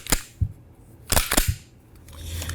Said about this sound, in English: You're going to flip this takedown lever.